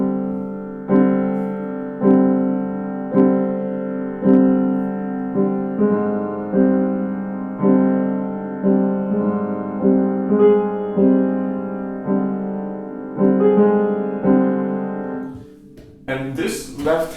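Slow, atmospheric solo piano plays sustained left-hand chords built as a stack of fourths, struck at a steady, unhurried pulse about once a second, each chord ringing and fading before the next; a short busier flourish closes the passage.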